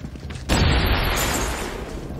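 A sudden loud explosion bursts in XCOM: Chimera Squad, a sharp onset followed by a sustained rumbling, crackling roar that slowly fades over about two seconds.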